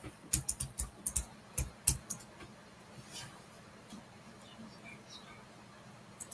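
Fast bursts of keystrokes on a computer keyboard clatter for about two seconds, then stop, leaving quiet room tone with a few faint clicks.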